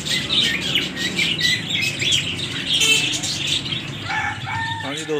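Fischer's lovebirds chirp and chatter in quick high bursts nearby, with a rustle of wings, other birdsong around them and a brief voice at the end.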